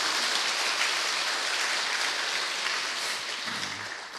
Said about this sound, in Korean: 우리 박수 한번 쳐주세요